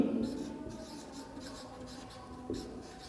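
Marker or chalk writing on a board during a physics lesson, a soft continuous scratching and rubbing that stays steady and low, close by with no clear talking over it.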